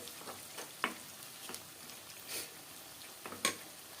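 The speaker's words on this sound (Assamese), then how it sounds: "এয়া আমাৰ মাংস ভাজা হৈ গৈছে।" Duck meat fries in a pan with a steady, low sizzle, broken by a few sharp ticks and pops from the pan and from stirring.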